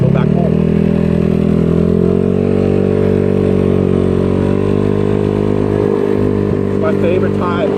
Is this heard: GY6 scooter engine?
yes